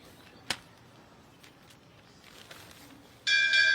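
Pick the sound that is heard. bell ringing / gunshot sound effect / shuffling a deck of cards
bell ringing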